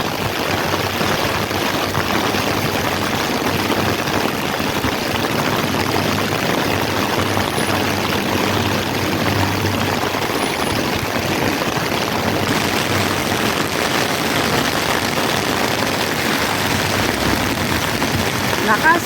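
Heavy rain pours down in a dense, unbroken roar at close range, loud and steady throughout with a faint low rumble underneath.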